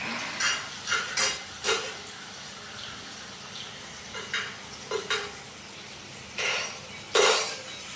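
Mushrooms and vegetables being stirred in a frying pan: intermittent scraping strokes of a utensil against the pan in short bursts over a soft background sizzle, close by and moderately loud.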